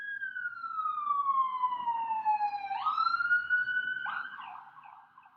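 A siren passing outside a bookshop rises and sweeps downward in a long wail, then jumps back up as it goes by, fairly faint and distant over a quiet room.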